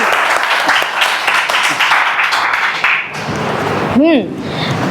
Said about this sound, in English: Can we all please clap for Munshi?